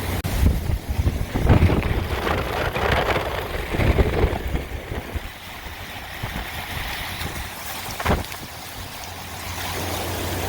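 Hurricane Sally's winds on Dauphin Island, Alabama: a loud, continuous roar of gusting wind buffeting the microphone, with surging waves of rushing noise and a sharp knock near the end.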